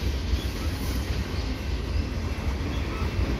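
The tail end of a CSX and CN mixed freight train rolls past at Ile Perrot, a loud, continuous low rumble of wheels and railcars with a steady clatter and no voices.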